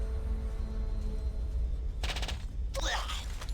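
Submachine gun fire in the video game Stellar Tactics: two short, rapid bursts in the second half, rising over a steady low background hum.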